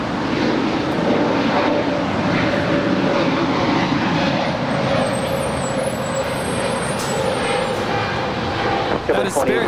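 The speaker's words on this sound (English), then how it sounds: "That is Spirit 643 departing to Chicago." A Spirit Airlines airliner on its takeoff roll from runway 25 right at LAX, a loud, steady, broadband jet roar that holds at full strength throughout, with a faint radio voice beneath it.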